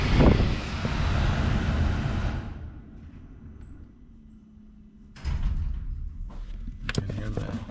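A newly replaced cabin air blower fan in a 2014–2016 Mercedes W212 E220 CDI runs with a steady, loud whoosh that cuts off after about two seconds. A faint low hum follows, then a few sharp clunks.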